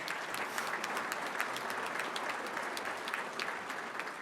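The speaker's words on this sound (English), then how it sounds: "A round of applause for these guys" Steady applause from an audience at a Detroit Red Wings event, dense clapping that holds evenly throughout at moderate distance, with no talking over it.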